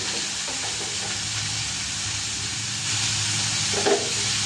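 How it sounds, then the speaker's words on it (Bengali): Oil heating in a kadai (wok) before fish heads go in: a steady, even sizzle and hiss throughout, close and moderately loud, slightly intensifying partway through with a brief crackle near the end, no voices. "তেল দিয়ে দিয়েছি, তেলটা গরম করে মাছের মাথা খাবো।"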